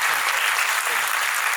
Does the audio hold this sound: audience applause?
yes